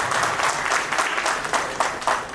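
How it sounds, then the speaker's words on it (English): A conference audience at a financial inclusion event claps steadily for about two seconds, a dense, even wash of hands from a large room with no talk over it. "So please give them a big round of applause."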